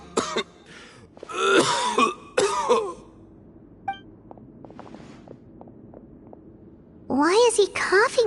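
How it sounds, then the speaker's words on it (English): In Genshin Impact, a game character gives a series of harsh, throaty coughs and throat-clearing bursts close up, while footsteps and small interface blips sound in the quiet spaces between. "Why is he coughing so much?"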